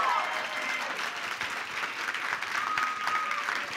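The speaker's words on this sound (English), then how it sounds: "Big round of applause for Dr. David Binder." Steady audience applause fills a hall at an innovation challenge final event, a dense wash of many hands clapping at even loudness throughout with no talk over it.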